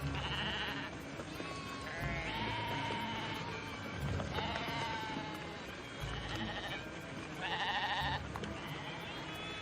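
Sheep bleating repeatedly as a Judas goat leads the flock toward a slaughterhouse, several overlapping high wavering bleats rising and falling over a steady noisy background, fairly loud and close, with no talk.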